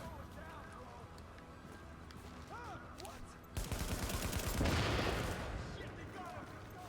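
Gunfire in Tom Clancy's The Division: after a stretch of quieter game sound, a dense, sustained burst of rapid shots erupts and carries loudly through the rest of the moment.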